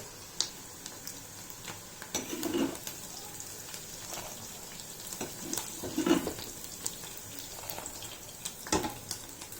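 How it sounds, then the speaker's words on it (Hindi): Ghee-fried dry fruits go into boiling milk in a kadhai for sheer khurma and are stirred, giving a steady low sizzle and bubbling with scattered light clinks and a few louder splashy bursts, no voices. "अब हम इस ड्राई फ्रूट्स को घी के साथ ही अपने इस उबलते हुए दूध में डाल देंगे"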